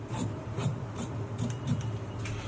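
Scissors cut blouse fabric for a single katori cut blouse in a run of soft, rhythmic rasping snips, about six strokes at an even pace, close and quiet with no talking.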